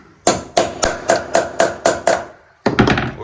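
Eight quick, evenly spaced hammer taps drive staples home into a wall being prepared for plastering, then a louder double strike after a short pause, all close and sharp with no talking.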